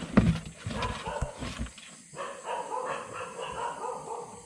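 A dog barks outdoors at a rural riverside fishing spot, a short run of loud, close barks in the first couple of seconds before fading into quieter background noise.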